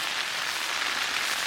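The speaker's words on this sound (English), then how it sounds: "it is now wet and raining. Listen to that." Steady rain falls outside a remote, isolated house in England, making a constant hiss of drops on surfaces, with no speech.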